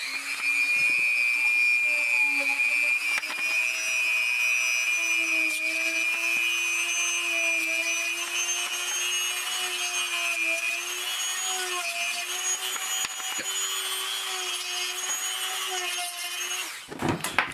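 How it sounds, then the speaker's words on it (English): A Dremel rotary tool drills into a plastic action figure, a steady high-pitched whine holding a near-constant pitch for about seventeen seconds, close and loud, cutting off at the end. "Those are the spots that I'm going to Dremel."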